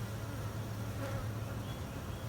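Honeybees drone in a steady, close buzz during a hive inspection, a dense hum that holds without break and with no voices over it.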